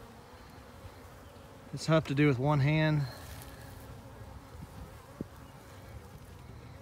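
Steady honeybee buzzing hums close around the head at an open hive while a person speaks briefly over it.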